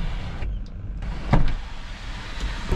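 A car sunroof motor runs briefly with a soft electric whir, broken by a short thump, under steady background noise.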